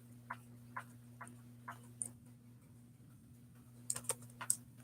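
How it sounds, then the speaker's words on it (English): Soft clicks of typing on a computer keyboard, a few slow spaced keystrokes followed by a quicker cluster near the end, faint and close over a steady low electrical hum, with no talking. "That's why I'm like typing."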